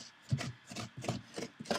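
A wooden spoon scrapes the inside of a fresh pumpkin, several short rasping strokes in an uneven rhythm, close and fairly quiet, with no talking.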